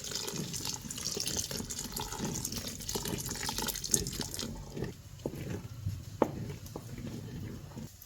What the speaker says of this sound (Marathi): आता हे आमच्या घरच्या म्हशीचं दूध आहे ही एक लिटर ह्यात घालतो